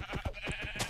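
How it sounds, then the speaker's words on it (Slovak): A Minecraft sheep bleats in a quick series of short, wavering calls at moderate volume, with no voices over it. "Mám ovcu!"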